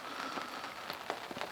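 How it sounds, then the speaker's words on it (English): Rain falling steadily in the evening, a soft continuous hiss with scattered louder drop patters close by, with nobody talking. "raining at the moment,"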